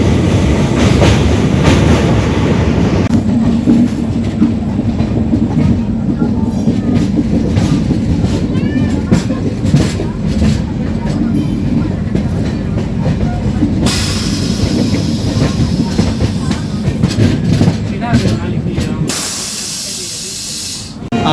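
Train 12863 running from Howrah to Katpadi, heard from inside a 3AC coach: a steady, loud rumble and rattle of wheels and carriage continues throughout, with a hissing burst toward the end.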